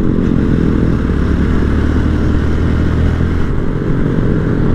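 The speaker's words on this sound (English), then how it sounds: "Roll on and off my throttle here." A small-bore motorcycle on a group ride in the Smoky Mountains idles loud and close, its engine pulsing steadily with slight throttle swells as the rider rolls on and off.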